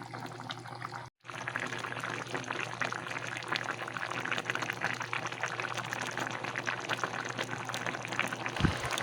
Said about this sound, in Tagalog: para pong sobrang lapot ng ating sabaw, kaya dinagdagan ko ng tubig